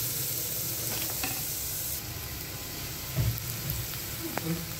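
Carrots fry in a little oil in a pan, giving a soft, steady sizzle with a few light clicks and scrapes, fairly quiet throughout.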